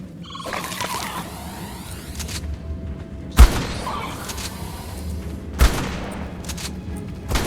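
Pump-action shotgun fired in ARK Survival Evolved, two heavy booming blasts a couple of seconds apart over a rumbling cave ambience.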